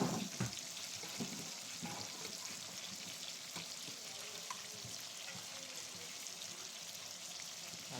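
Fish fries in a pan with spiced onion and garlic mixed in, a soft continuous sizzle with faint clinks and stirring noises in a quiet kitchen, no talking.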